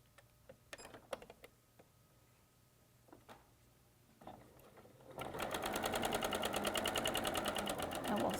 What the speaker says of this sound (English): And we'll sew those up.